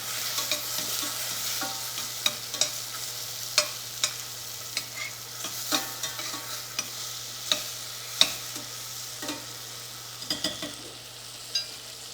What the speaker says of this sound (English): I can hear my berries working over here